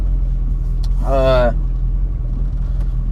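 A Corvette engine rumbles steadily at close range through a first gear shift, a low continuous drone under cabin noise, while a voice briefly speaks over it near the middle.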